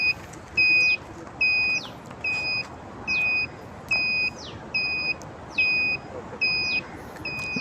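Turn indicator of an Essel E-Cycle Get 7 electric bicycle beeping steadily, a rhythmic series of short high electronic tones about twice per second, moderately loud over a hissy background.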